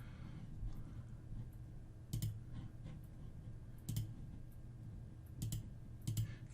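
Soft, sharp computer mouse clicks tap out at irregular intervals, some single and some doubled, over a quiet room hum while an online shopping cart is browsed.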